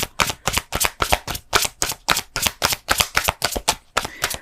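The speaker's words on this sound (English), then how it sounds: "One more shuffle." Tarot cards riffle and slap in quick, rhythmic bursts, about four per second, close up and crisp, with no voices.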